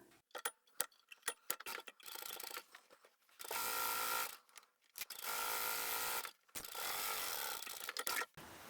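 A sewing machine runs a very narrow seam along the side edge of a foldable tote bag, starting with a few quick ticks of the needle and then running in three sustained whirring bursts with short pauses between them, close and clear.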